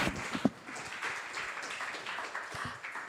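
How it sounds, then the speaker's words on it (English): An audience at a tech policy conference applauds a panel of speakers: a continuous patter of many hands clapping, with a few louder claps near the start, steady for about three seconds. "give a big round of applause to our excellent speakers"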